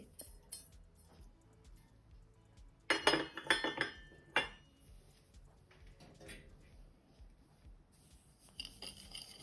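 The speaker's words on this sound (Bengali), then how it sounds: "হ্যান্ড উইক্স দিয়ে আমি ভালোভাবে নাড়তেছি চিনিটা না গলা পর্যন্ত আমাকে নাড়তে হবে" A metal hand whisk clinks and scrapes against a bowl while stirring sugar with lemon juice for a lemon pound cake, heard in a brief burst of rapid strokes amid quieter clatter.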